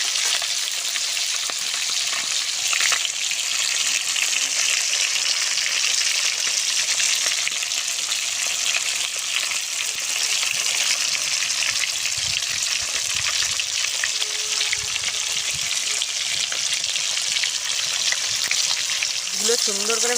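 Pieces of a large 2 kg native fish fry in hot oil, giving a loud, steady, crackling sizzle that holds for the whole stretch without a break.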